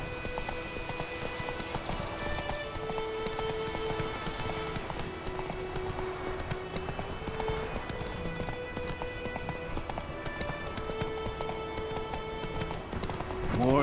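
Roach the horse galloping in The Witcher 3, a steady drumming of hooves under continuous music and ambient noise, close and sustained throughout with no pauses.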